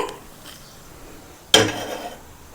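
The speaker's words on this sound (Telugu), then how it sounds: "దానికోసం అయితే నేను బాండి పెట్టేశాను, స్టవ్ వెలిగించేసి." Metal pan (bandi) set down on a lit stove: one sharp, close clank of metal at mid-clip, ringing briefly before fading into quiet room tone.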